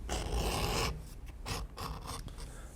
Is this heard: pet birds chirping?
no